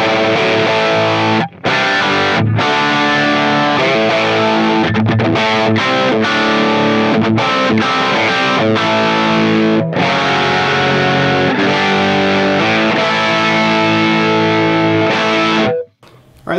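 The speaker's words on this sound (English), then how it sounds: "That's a really good, nice, Marshall, kind of bitey guitar sound." Distorted electric guitar through a Marshall-style amp with a biting, crunchy tone, playing chords and riffs continuously with brief gaps, loud and close, centered in mono without stereo effects.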